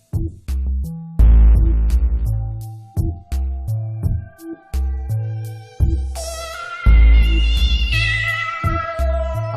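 A wavetable synthesizer with two oscillators and LFO modulation plays a sequence of punchy, evolving notes with shifting, wobbling timbres and sweeping bright overtones, loud and close with no voices.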